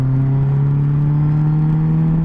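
A 2016 Polaris Slingshot engine drones steadily and loudly while the three-wheeler drives, a strong low hum holding constant with a faint rev and wind noise throughout.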